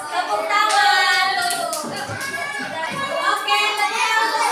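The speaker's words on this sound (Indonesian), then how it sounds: "Oke, tepuk tangan untuk semuanya." A classroom group of children clapping for their classmates, a sustained, moderately loud patter of hands with children's voices and chatter mixed in.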